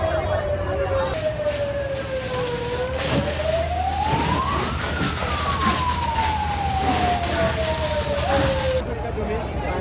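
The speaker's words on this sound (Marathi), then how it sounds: "तर बघू शकता फायर ब्रिगेडवाले आलेत आपले अग्निशमन दलवाले" A fire brigade fire engine sounds its siren at a street fire where a bus is burning, one long wail that climbs and then slowly falls, loud over constant traffic and crowd noise with people talking nearby.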